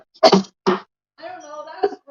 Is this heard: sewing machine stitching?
no